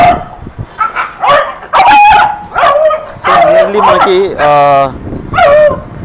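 Several pet dogs, seven of them, barking, yipping and whimpering as they scuffle on a terrace, loud harmonic yelps in bursts, mixed with someone talking close by.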